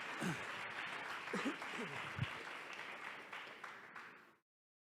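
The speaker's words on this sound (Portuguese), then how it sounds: "um aplauso para os avós dessa casa" A church congregation applauds together in a worship hall, a steady, dense wash of clapping that holds for about four seconds before cutting off abruptly.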